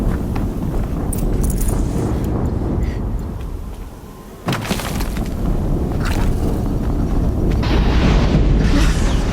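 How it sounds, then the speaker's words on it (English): Explosion in the video game Horizon Zero Dawn: a heavy rumbling blast with a sharp boom midway, wrapped in dense, loud game noise and rattling debris. "Another explosion."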